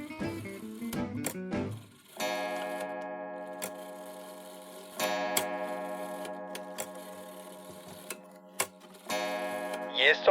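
Pendulum clocks ticking with sharp, evenly spaced clicks, heard alongside sustained bell-like chime tones that ring out and decay, a layered, moderately loud mechanical chorus with no talking.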